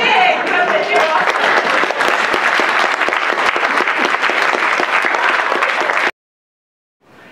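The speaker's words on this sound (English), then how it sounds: "a big round of applause" A large audience applauds loudly and continuously for magician Charles Greene III at a Pecha Kucha presentation night in Bemidji, the dense clapping holding for about six seconds before cutting to silence.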